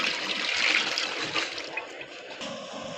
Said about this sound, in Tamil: வடைக்காக எண்ணெய் ஊற்றுறோம், போட போகிறோம்.